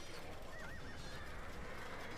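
Horses whinny faintly in the Age of Empires video game, a brief high neigh rising over a steady bed of battle ambience and low rumble.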